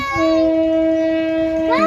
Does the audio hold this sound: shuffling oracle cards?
no